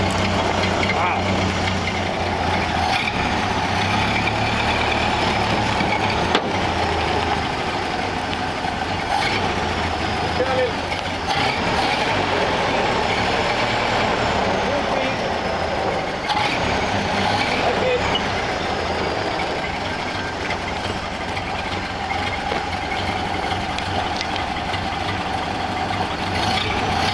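Ford F600 hot rod hauler truck engine running, a steady close rumbling drone with some clatter throughout.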